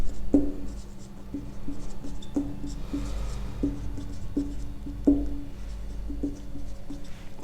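Pen or chalk writing out a trigonometry proof during a Class 10 maths lesson, heard as a steady series of close, crisp taps and scratchy strokes in an irregular rhythm over a low background hum.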